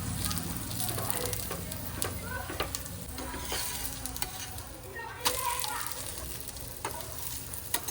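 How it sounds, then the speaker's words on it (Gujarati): Onion lachha paratha fries in ghee on a pan, giving a steady close sizzle with occasional soft scraping and tapping as it is turned and pressed. "હવે આપણે આને સારી રીતે તળી લેવાનું છે."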